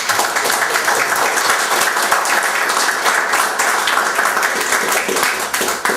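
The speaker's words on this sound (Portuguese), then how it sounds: "eu solicitaria uma salva de palmas" Loud, sustained audience applause at a lecture, a thick and steady roar of many hands clapping close by that holds evenly before tapering slightly at the end.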